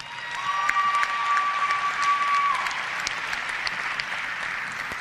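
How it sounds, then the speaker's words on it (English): Graduation audience at a university fall commencement gives a speaker another round of applause, with sustained crowd clapping that swells and then tapers, plus a faint tone partway through. "Could we give her another round of applause?"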